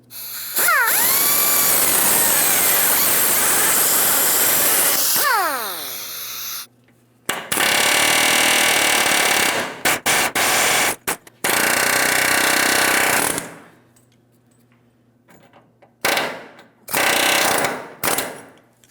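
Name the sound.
power tool removing rivets from a GMC Sierra frame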